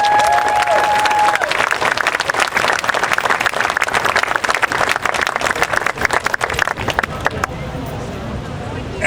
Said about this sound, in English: a big round of applause for Joe's other daughter